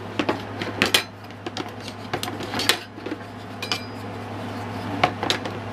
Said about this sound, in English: I got some grilling tools from the camping section at Walmart.